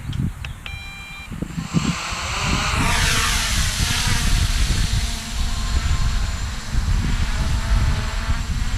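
An MJX Bugs 3 quadcopter drone spins up its motors and lifts off, a loud buzzing whine that swells after a few clicks and holds steady as it flies close by.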